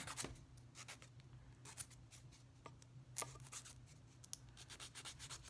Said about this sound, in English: file some more. There, this grit's a little stronger